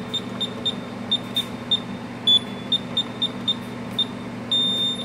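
Short, evenly spaced beeps from a house alarm keypad being set, repeating steadily near the listener over a low background hum, with a couple of longer tones.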